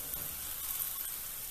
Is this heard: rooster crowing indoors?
no